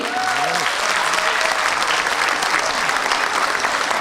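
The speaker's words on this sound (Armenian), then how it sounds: "Եկեք ավելի բուռն ծափահարենք այսօրվա այս համերգը նախաձեռնող հերոսին" Dense, steady applause from a concert audience honoring a heroic organizer at a Garegin Nzhdeh 125th anniversary concert, loud and continuous throughout with a faint tonal voice-like line early on.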